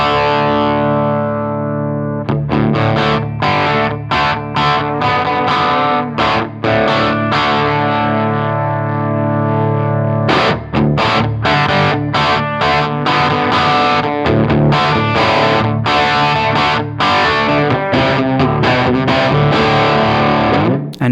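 Heavily distorted electric guitar played through an effect pedal's preamp, thick sustained chords and riffs with rhythmic stops and restarts, loud and close with no talking.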